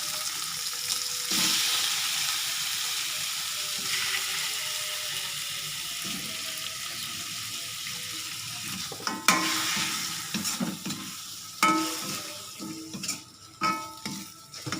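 Small chicken pieces stir-fried in a pan for a Hong Kong-style dish give a steady sizzle, then a run of close, uneven scrapes and clatters from a spatula against the pan, with no talk.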